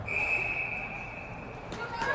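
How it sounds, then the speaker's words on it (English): A referee's whistle at an indoor ringette game blows one long, shrill, steady blast over the arena's background crowd noise, followed by faint bumps and clatter. "Another whistle due to the scoreboard."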